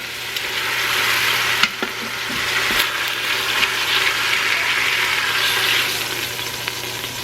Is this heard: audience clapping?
no